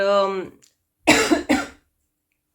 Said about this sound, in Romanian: hai că într-un final tot am tușit